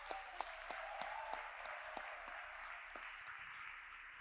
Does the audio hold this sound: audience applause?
yes